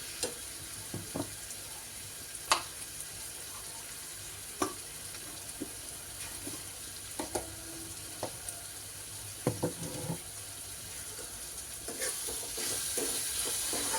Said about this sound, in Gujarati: કાંદા ટમેટાની ગ્રેવી સરસ મજાની ચડી જાય